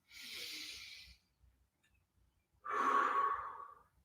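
Two deep breaths during a morning mobility exercise session, each a long, close, audible exhale through the mouth, separated by a short quiet pause.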